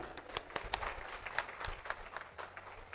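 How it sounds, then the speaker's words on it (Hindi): Applause at the DHA Multan Expo for the project director, a scattered crowd clapping with uneven sharp individual claps, fairly distant and soft. "तालियां प्लीज़"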